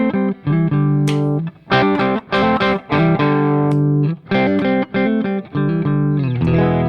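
Electric guitar with P90 pickups played through distortion, with the pickup selector switched between positions. Bursts of overdriven chords and notes come in short, loud phrases separated by brief gaps as the tone changes.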